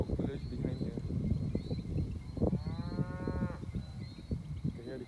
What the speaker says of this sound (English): You can hear the cows mooing.